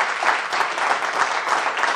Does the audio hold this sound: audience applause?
yes